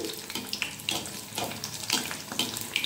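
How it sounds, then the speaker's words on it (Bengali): Eggplant fritters (beguni) dusted with Kashmiri red chili powder frying in oil, a constant crackling sizzle up close with a handful of brighter spatters and pops. "এইভাবে আমি এপিট ওপিট ভালো করে লাল করে ভেজে নেব"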